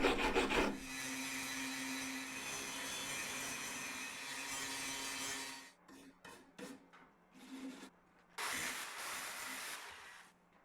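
Weld repair on a cracked cast iron woodstove being cleaned up with a power grinder in a metal workshop, a loud continuous abrasive grind followed by several short bursts and a final longer run, close up and without speech.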